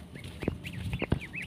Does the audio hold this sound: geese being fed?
yes